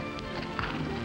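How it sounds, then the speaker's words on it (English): Hooves of a horse led on foot clip-clop steadily at moderate distance, a fairly quiet, even patter with some faint background noise and no talk. "the horse Joe Ridgely and his daughter were leading was exceptional"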